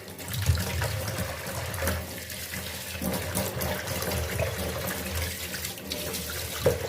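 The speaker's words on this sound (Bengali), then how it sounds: "এই যে মাছ ধোয়া কমপ্লিট আমার" Fish being washed under a running kitchen tap produces a steady, close splash of water into the sink, with faint clinks and handling noises throughout.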